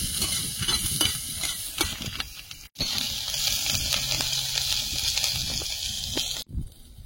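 Freshly picked greens frying in a pan with onion, green chillies and a dried red chilli while being stirred, a steady close sizzle and scraping clatter that continues throughout with two brief breaks.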